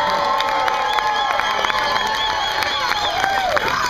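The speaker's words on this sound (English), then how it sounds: "Applaud now." A lively audience at a comedy contest at Disney World at Christmas cheers loudly, with children shouting, whoops and scattered clapping in a dense, sustained burst that fills the room.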